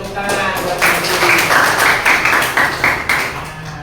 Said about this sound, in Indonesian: Tepuk tangan buat terpuji.